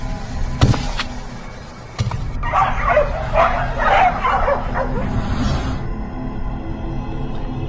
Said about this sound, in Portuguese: Passos pesados e agito de cachorros.